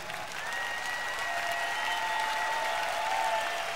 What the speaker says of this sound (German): Ja, klatscht ruhig.